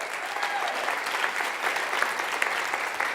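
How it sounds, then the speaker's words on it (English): Seminar audience applauding a participant, a steady wash of clapping from a full room that continues evenly throughout. "Give her a round of applause."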